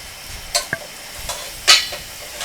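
Rice tipped into a hot frying pan for fried rice and stirred, with a few scraping strokes and light sizzling, close and moderately loud, no talk.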